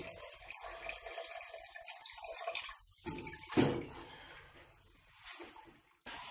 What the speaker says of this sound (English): I'm just going to lift my bag out and let it drain for 10 minutes